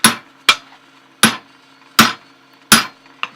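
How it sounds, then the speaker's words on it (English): Six sharp ringing hammer blows drive a 5/8 inch drift through a hole in hot forged steel, struck at a steady, unhurried pace, loud and close with a metallic ring after each hit. "Now we're going to go with our 5/8 inch drift"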